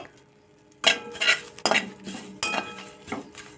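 Neem leaves and eggplant fry in a kadai while a metal utensil stirs and scrapes the pan in several loud bursts after a quiet start, with clanks against the metal and only a faint hint of sizzle.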